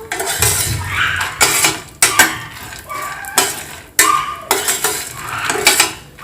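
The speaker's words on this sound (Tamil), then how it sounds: "கொஞ்சம் மிக்ஸ் பண்ணிக்கோங்க." Peanuts being stirred in a metal pan for chutney: a spoon scrapes and clinks against the pan in repeated loud, close strokes, with a faint sizzle underneath.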